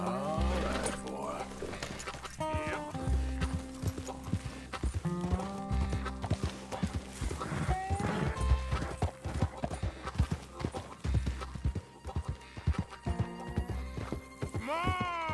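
A horse approaches with loud, close hoofbeats and repeated neighs and whinnies in Red Dead Redemption 2, the clopping continuing throughout with music-like tonal sounds and little talk.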